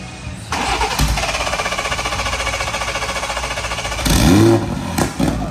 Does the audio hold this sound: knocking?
no